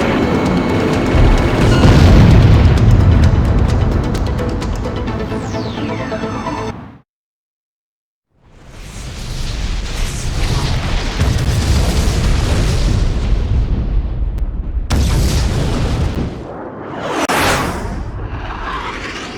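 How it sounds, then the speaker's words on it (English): Shock cannon fire and explosions in the Ace Combat X combat flight game: loud, dense booming blasts and whooshes, a sudden cutout to silence, then renewed rumbling detonations and a rising swoosh. "The shock cannon is preparing to fire again! In 5 seconds! 3, 2, 1. Cannon firing!"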